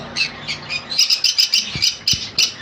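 Conures for sale, including sun, pineapple and yellow-sided conures, let out a rapid string of close, shrill squawks and chirps, the calls packed tighter together in the second half.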